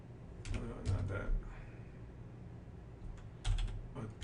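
Fast bursts of typing on a computer keyboard while writing program code, several clustered runs of keystrokes close to the microphone with short pauses between them over a low steady hum.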